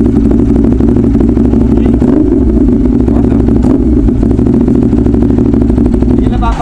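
Ducati Hypermotard 821 with an aftermarket exhaust idling and revving loudly nearby, a steady deep engine rumble with slight rises in pitch, mixed with the noise of other motorcycles gathered for a group ride.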